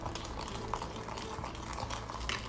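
Hair bleach being stirred and mixed in a bowl gives a steady, faint, soft scraping and clicking texture at close range, with no voices.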